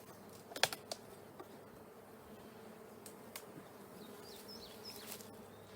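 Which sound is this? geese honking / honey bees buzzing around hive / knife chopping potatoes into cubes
honey bees buzzing around hive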